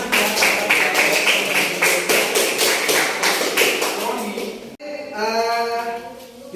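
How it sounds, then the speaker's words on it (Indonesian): Classroom group claps hands together in rhythmic bursts for several seconds, fairly loud and close, then breaks off into a brief voice. "Kita tepuk tangan lagi buat kita semua."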